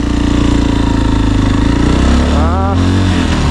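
A motorcycle pulls away in first gear during braking practice, its engine droning steadily and rising slightly in pitch, loud and close throughout.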